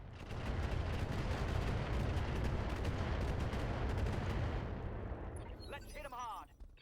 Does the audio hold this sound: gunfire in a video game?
yes